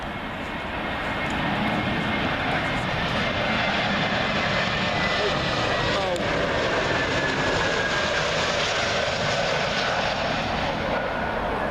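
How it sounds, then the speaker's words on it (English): Swiss Air A320neo arriving at Heathrow from Zurich, a steady broad jet roar swelling early and holding loud and close for the whole stretch, with no voices over it. "Up next will be Swiss Air. That's who it'll be. 320neo from Zurich."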